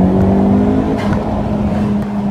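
A 10th-generation Honda Civic with a small turbo engine and a PRL Cobra cold air intake revs hard and loud, a sustained, aggressive engine drone close by with no talking.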